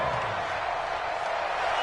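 Dense, steady roar of a football stadium crowd at a Saints at Cowboys game, a continuous broadband wash of voices and noise with no distinct claps or pauses.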